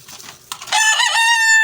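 A rooster crows loudly and close up in a single harmonic cock-a-doodle-doo, starting after a short soft rustle as bread is opened nearby.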